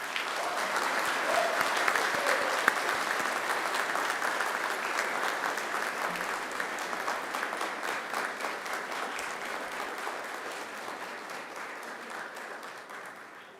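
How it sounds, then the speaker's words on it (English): Sustained audience applause at a Macquarie University graduation ceremony, a dense wash of many hands clapping that holds steady for the whole stretch and tapers slightly toward the end, with no voices over it. "And now invite you to give them a mighty round of applause."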